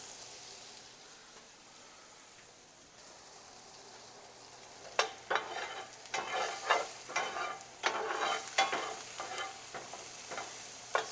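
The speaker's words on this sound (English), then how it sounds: "I'm going to add the onions in here to saute for a minute" About a quarter of an onion sautés in a pan on a lowered burner, a steady soft sizzle that brightens partway through, with repeated scraping stirs over the frying.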